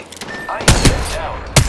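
Enemy gunfire in the shooter game Apex Legends, fought at close range, lands as a few loud, sharp cracks in quick succession, with a later single shot and some in-game sound underneath.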